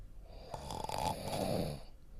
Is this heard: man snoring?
yes